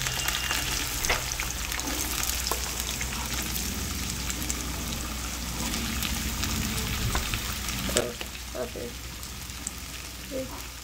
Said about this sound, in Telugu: తర్వాత తాలింపు గింజలు ఇవన్నీ కూడా వేసుకొని ముక్కలు వేసుకొని వేపుకోవాలి